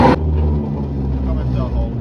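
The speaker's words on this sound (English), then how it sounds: "Just like that, wind it down, you can hear it winding down." A cattle feed mixer with an auger winds down after crushing feed, a loud steady mechanical rumble after a brief sharper burst at the start.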